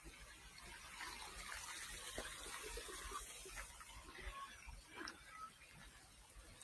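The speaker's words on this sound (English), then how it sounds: "I hear water." Steady, faint rush of Federation Falls in the distance at Stony Range Botanic Garden, a continuous broad hiss with a few soft splashy accents throughout.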